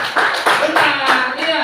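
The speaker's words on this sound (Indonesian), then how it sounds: "Berikan tepuk tangan untuk" A school class applauds together, a brief burst of clapping hands in a classroom, loud and close, with voices mixed in.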